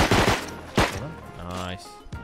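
Turret gunfire in a first-person shooter game rattles out in sharp bursts between moments of speech, with a couple of loud cracks standing out near the start.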